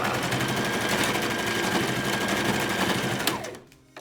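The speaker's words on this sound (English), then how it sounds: "Lay your fabric back over and sew over that" A sewing machine runs fast and steadily, stitching a fabric face mask, its close, loud whir continuing for over three seconds before stopping abruptly near the end.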